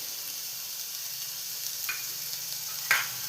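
Modak filling of sugar, cardamom and nutmeg sautéed in a pan over low heat gives a steady soft sizzle, with a couple of brief scraping clinks from stirring near the end.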